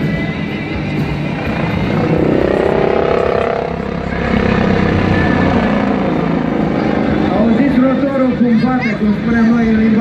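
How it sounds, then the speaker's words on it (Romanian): A Bo-105 helicopter flown through aerobatic manoeuvres at an airshow, its rotor and engine drone steady and sweeping throughout, heard under continuous loud commentary. "Cu siguranță că elicopterul este supus la forțe foarte, foarte mari."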